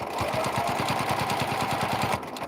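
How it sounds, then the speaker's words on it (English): A sewing machine stitches in the ditch along a white seam of a quilt, a fast, even needle rhythm running steadily before stopping near the end. "now we go back to the sewing machine, and I'm stitching in the ditch between the white"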